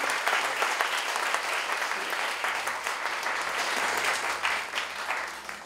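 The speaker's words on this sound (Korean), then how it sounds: "큰 박수로 환영해 주시기 바랍니다" An audience at a Samsung Bixby developer meetup applauds to welcome a speaker, with dense, even clapping that is fairly loud and steady throughout.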